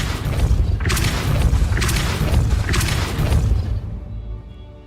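Depulso spell casts in Hogwarts Legacy, several forceful whooshing blasts with booming thuds in rhythmic succession, loud and close, then fading to near quiet at the end.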